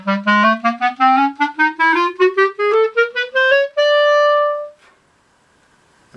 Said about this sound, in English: You can also try tongue 2, slur 2. It sounds like this.